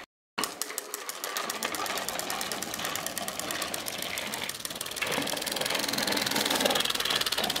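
Children's little motorbikes run with a steady, rapid buzzing engine drone that holds throughout, close and fairly loud after a brief silent start.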